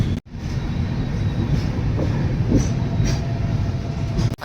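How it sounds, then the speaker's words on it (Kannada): A freight train hauled by two WDG4D diesel locomotives rumbles past nearby, a loud continuous roll of wagons with rhythmic wheel knocks and a brief dip near the start. "ಓಕೆ ಫ್ರೈಟ್ ಟ್ರೈನ್ ಐತೆ ನೋಡ್ರಿ. 2 ಡೀಸೆಲ್ ಇಂಜಿನ್"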